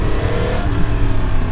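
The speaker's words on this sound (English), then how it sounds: "engine noise, exhaust noise" A 2022 Yamaha MT-10 motorcycle roars loudly and close, its engine and exhaust revving in a sustained, throaty drone with airbox intake noise, alone with no talk.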